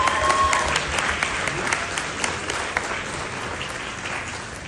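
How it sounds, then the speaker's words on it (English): A room full of members applauds Ron, warm continuous clapping with occasional sharper individual claps standing out, close and lively for the whole stretch. "Can we all give Ron a round of applause?"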